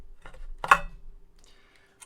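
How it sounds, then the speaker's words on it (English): A circuit board slides out of the heatsink of a Pyle PLA2678 car amplifier, making a brief metallic scrape and clack, with faint ticks and rubbing around it at close range. "the board will slide right on out of the heatsink here"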